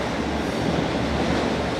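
A freight train rumbles past in America, a steady loud roar of rolling wagons with faint rail clatter that fills the whole moment without pause.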